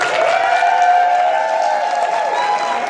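An audience at a conference session applauds and cheers for the elementary group, a loud, sustained wall of clapping mixed with whoops and crowd noise.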